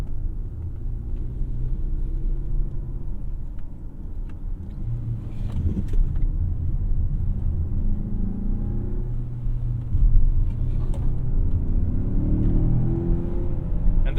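A 2025 Mazda CX-5 Turbo Signature with a turbocharged engine, six-speed automatic and all-wheel drive drives around town, its low engine rumble and road noise steady from inside the cabin, swelling briefly as it accelerates.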